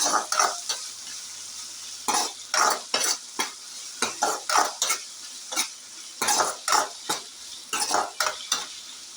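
A spoon stirs crushed garlic and tomato mixture in a frying pan for tomato rice, making rhythmic scraping strokes and clinks over a light sizzle, close and loud, with no talking.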